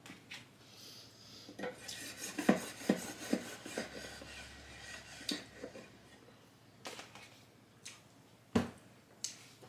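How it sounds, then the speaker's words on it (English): A serrated knife saws through a loaf of bread in a home kitchen, giving soft rasping strokes and scrapes with a few sharper clicks against the board, all close up and fairly quiet. "I don't know if I've ever in my life cut bread this easily."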